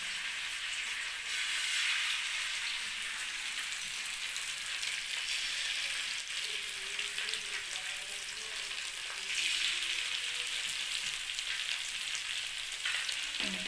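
Fish coated in mustard masala fries on a hot pan, giving a steady, close sizzling hiss that swells and eases slightly over its length, with no talking.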